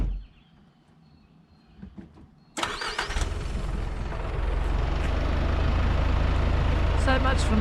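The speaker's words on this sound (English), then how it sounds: "The next thing is starting the truck up." A truck engine cranks and catches at a free campsite, roaring loudly up close and settling into a steady rumbling idle, with faint background sounds before it starts.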